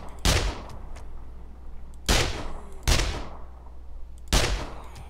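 Short bursts of submachine gun fire in the survival game 7 Days to Die crack out four times, loud and close, separated by brief pauses over a low background hum.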